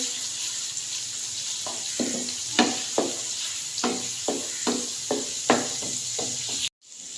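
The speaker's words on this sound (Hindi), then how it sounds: "जिस ऑयल के अंदर हमने अंडे फ्राई किए हैं उसी ऑयल के अंदर आधी चाय की चमचे अदरक लहसुन का पेस्ट डाल देंगे और इसको हम फ्राई कर लेंगे" Ginger garlic paste fries in oil left over from frying eggs, a steady close sizzle broken by repeated soft stirring scrapes, ending in a brief cutoff.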